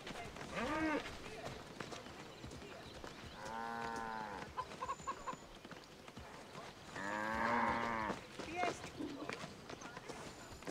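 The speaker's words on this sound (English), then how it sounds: "To su te krave s velikim rogovima." Cattle with large horns low in a video game recreation of ancient Greece: two drawn-out moos a few seconds apart, moderately loud over a busy background of hoof clops and people talking.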